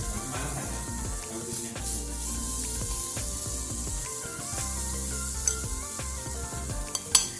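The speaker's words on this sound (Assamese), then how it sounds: "এতিয়া মই অলপকৈ বেটাৰখিনি ইয়াত দি ল'ম।" Wheat flour batter for a breakfast pitha is spooned onto a greased hot pan, giving a steady close sizzle that runs throughout, with a couple of light utensil clinks near the end.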